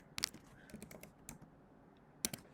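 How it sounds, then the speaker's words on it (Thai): Keyboard typing in short bursts of clicky keystrokes, a cluster near the start, scattered taps through the middle and another quick burst near the end, fairly close and with no talking. "แล้วเราก็พิมพ์ อย่างนี้นะ"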